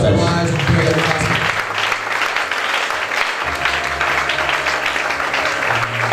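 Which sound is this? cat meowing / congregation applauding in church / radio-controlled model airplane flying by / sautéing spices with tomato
congregation applauding in church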